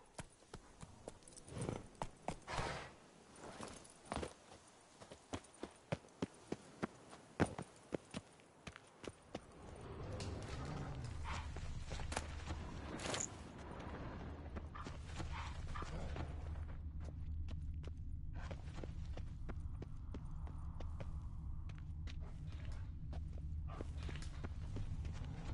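Horse hooves clip-clop from the horse Roach in the video game The Witcher 3, starting as a quick trotting rhythm of distinct hoofbeats, then shifting to a steady rumbling gallop under low droning music.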